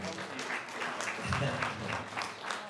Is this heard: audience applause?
yes